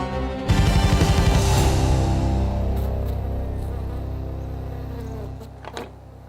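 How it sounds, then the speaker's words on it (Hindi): Bees shut inside a box drone with a loud, steady buzz that starts abruptly and holds close and continuous, slowly easing a little toward the end. "इस बॉक्स में दुनिया की सबसे खतरनाक मधुमक्खी हैं।"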